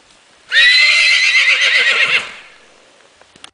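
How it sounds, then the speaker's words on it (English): Isolated, stressed horse letting out one loud, shrill neigh lasting under two seconds, close by, followed by quiet with faint shuffling. "The horse will often vocalize at a loud volume to draw attention and relay its stressful state to other horses in audible range."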